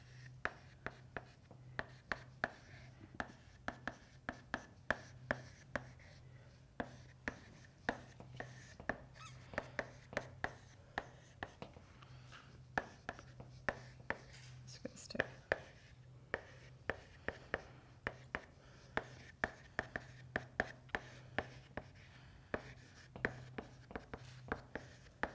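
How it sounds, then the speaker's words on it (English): Chalk or marker writing on a board during a physics lecture on celestial holography, dozens of sharp taps and short scratchy strokes in irregular bursts over a low steady room hum, close and fairly quiet with no talking. "So let me write this out."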